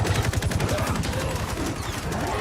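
Sustained rapid gunfire from soldiers in the fighting game Mortal Kombat 11, a dense fusillade of overlapping automatic bursts filling the whole stretch at close range with no pauses.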